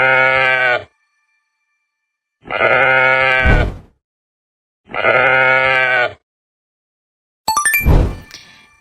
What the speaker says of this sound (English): This is sheep. Sheep says ba,